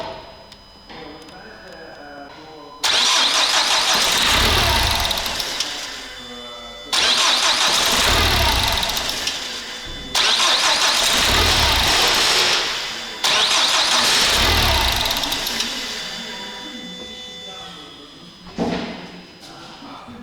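A Renault Laguna 3, missing an intercooler-to-turbo hose, cranks hard on a first start in several long bursts of starter whirring and engine catching, with quieter pauses between attempts and a voice talking.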